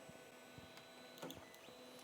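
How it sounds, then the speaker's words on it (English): A Creality CR-10 Mini 3D printer auto-homes with soft, faint stepper motor whirs and a few brief clicks and taps, heard alone in a quiet room. "we need to home the printer"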